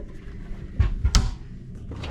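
Cabin drawers on a cruise ship stateroom are pulled open and pushed shut, giving a few close, dull thumps and a short wooden slide within about a second, in an otherwise quiet room.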